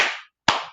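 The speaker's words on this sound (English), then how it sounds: "2 claps for Naomi." Two sharp hand claps, close and loud, about half a second apart, each ringing out briefly into silence.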